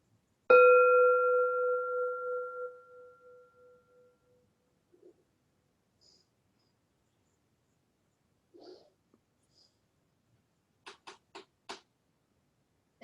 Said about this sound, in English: sound the bell together.